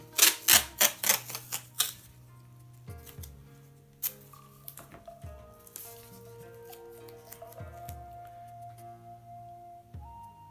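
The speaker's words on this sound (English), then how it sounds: "So what I'm going to do is tape it together." Paper tape torn and stuck while making origami: a burst of sharp ripping and crackling at the start, then sparser tape snaps over steady background music.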